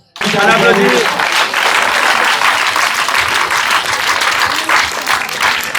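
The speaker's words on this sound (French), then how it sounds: "Je veux qu'on les acclame d'abord." Loud, dense applause from an audience greeting visitors who brought drinking water breaks out after a brief voice and continues steadily to the end.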